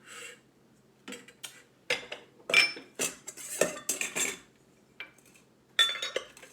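Metal utensils clink and scrape against a pot as an onion, seasoning and lime juice mixture goes into Thai laab in an Instant Pot, a series of sharp, close knocks and rattles with quiet gaps between them.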